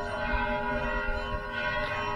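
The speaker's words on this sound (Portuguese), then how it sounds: "quando elas resolvem bater sino, elas batem sino sério." Church bells in Ouro Preto, Minas Gerais, ring during the Novena de Santa Efigênia, producing a dense, continuous metallic tolling with lingering overtones and no voices.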